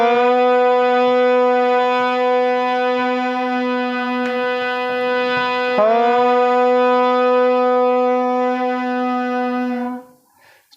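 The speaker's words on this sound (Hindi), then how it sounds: "यह आपका कोमल नी बज रहा था" A harmonium sustains a single komal Ni note, a loud, steady reedy drone with rich even overtones. It holds for about ten seconds with a slight shift midway, then cuts off abruptly.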